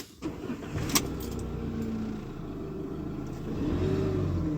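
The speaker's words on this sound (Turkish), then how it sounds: "E, arabamızı çalıştıralım bakalım görelim oluyor mu" A Fiat Ducato van's engine cranks briefly and catches, then settles into a steady idle that swells slightly toward the end, close and clear with no talk.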